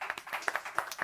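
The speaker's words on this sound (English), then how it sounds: "So a round of applause for you all." Faint, scattered claps from a small audience come in a brief, uneven patter, a few distinct hand strikes heard alone.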